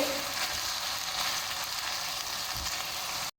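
Lengthwise-cut bell peppers (shimla mirch) fry in a pan for qeema, giving a steady, dense close-up sizzle that runs unbroken until it cuts off abruptly.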